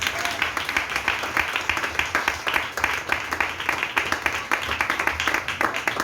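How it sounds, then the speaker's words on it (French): A church congregation applauds, a dense, steady clapping that fills the space for several seconds with some crowd voices mixed in. "Acclamons Jésus pour cette œuvre."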